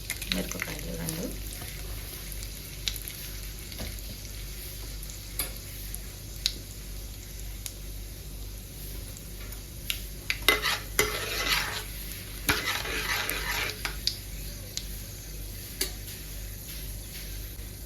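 Chana dal and two chillies fry in a pan with a soft steady sizzle, broken by occasional scraping and tapping of a stirring spoon, close up.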